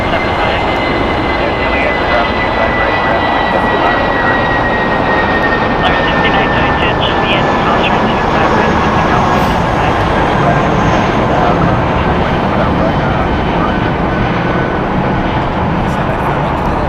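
A Spirit Airlines Airbus A320 jet at Los Angeles International Airport drones as a steady, loud engine roar with a thin whine, sustained throughout without a clear rise or fade.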